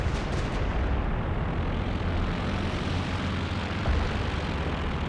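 A Ju 87 Stuka makes a strafing run in a strategy video game battle against a Crocodile tank, a loud, dense roar of aircraft engine mixed with continuous gunfire, with no talk over it.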